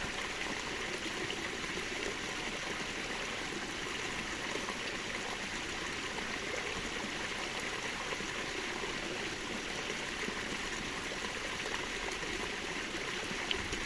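A gently flowing water stream trickles and burbles steadily, soft and continuous with no voices.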